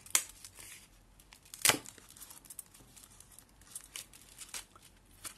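Foil wrapping on a bar of 42% cocoa dark chocolate from BİM, made by Detay Gıda, crinkles and tears close up, with two sharp rips standing out early over a steady soft rustle.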